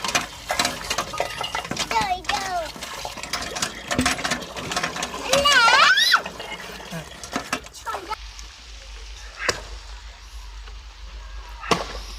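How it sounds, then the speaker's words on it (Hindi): Water is drawn from a hand pump in a village courtyard during rain, with squeaking, clanking strokes and splashing, while people talk nearby. "नलका चलाओ रिखा।"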